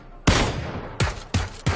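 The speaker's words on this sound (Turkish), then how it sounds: "Hala silah sesleri var." Four sharp gunshots in PUBG, a single blast followed by three quick reports, loud and close with short decaying tails.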